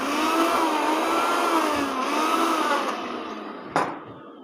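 A Kiam 1200 W mixer grinder runs with its small chutney jar, a loud steady high-pitched motor whine that holds for several seconds, then winds down and stops with a short clunk.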